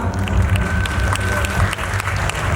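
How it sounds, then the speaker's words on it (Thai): A crowd applauding steadily at a Thai film launch event, dense clapping sustained throughout with no pauses, fairly loud and close. "ขอเสียงปรบมือด้วยครับ"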